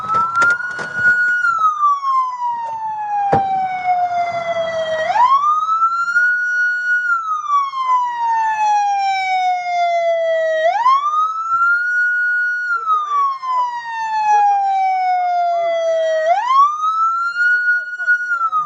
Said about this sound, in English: Siren real quick.